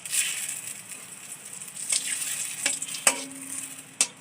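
Bay leaves frying in hot oil for basanti pulao, a soft steady sizzle with occasional stirring scrapes and small clicks from the pan, close and moderately quiet, without speech.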